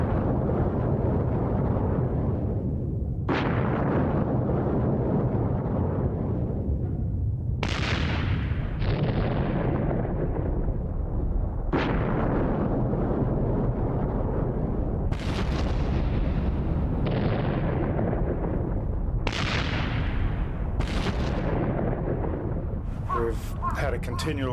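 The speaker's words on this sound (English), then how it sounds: "Had a continual series of eruptions this morning." A volcanic vent about a kilometre away jets rock and ash in a continuous heavy roar, broken by a series of sharp, booming blasts every few seconds.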